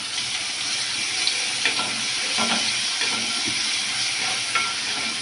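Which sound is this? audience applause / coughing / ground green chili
ground green chili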